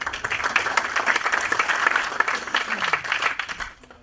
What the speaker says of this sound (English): Round of applause for our next speaker, please.